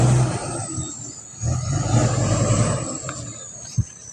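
A dump truck on a muddy rainy-season road, its engine droning and howling in a rising whine with rumbling low tones, close and loud, ending with a sharp brief knock.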